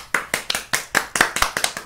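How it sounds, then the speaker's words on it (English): Two people clap their hands at the end of a Heroes of Might and Magic 3 speedrun, a close, sparse run of sharp individual claps with an uneven rhythm and no talk. "The two people applauding."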